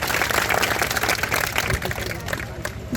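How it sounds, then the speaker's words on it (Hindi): A crowd applauds steadily, dense clapping that holds for a few seconds and slowly eases, with some voices mixed in. "जोरदार तालियां बजाओ।"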